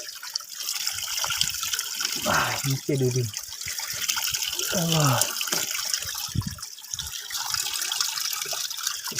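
Water flows steadily along a rural hillside footpath, a continuous wash of trickling and rushing, while people talk briefly over it.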